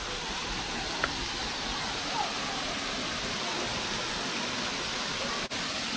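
Steady broadband rush of a waterfall near Antalya, Turkey, heard up close as a constant dense roar with no breaks, a faint click or two poking through.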